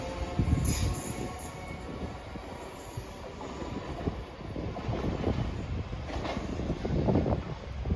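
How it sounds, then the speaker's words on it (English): A ScotRail train moving through Haymarket station in Edinburgh, with steady rumbling wheels and rail noise, faint squeals and clatter building toward the end, heard alone at close range. "Departing out now is the 1620 one ScotRail service from Dunblane to Edinburgh Waverley."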